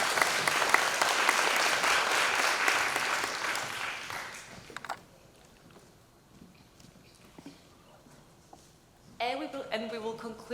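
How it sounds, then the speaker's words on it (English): An audience at a health AI unconference gives a hearty round of applause that fades after about four seconds into quiet room noise, and then a speaker begins talking. "Please, a round of applause."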